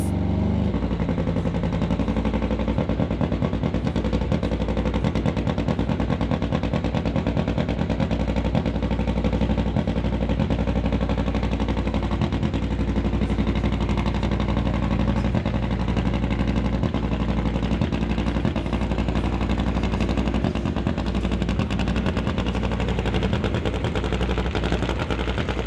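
A drag racing motorcycle roars at Mission Raceway Park, its engine a loud, relentless, rapid-fire rattling blast that holds steady for the whole stretch with no pauses or talk.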